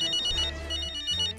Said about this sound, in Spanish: ¡Contesta el teléfono que es para usted!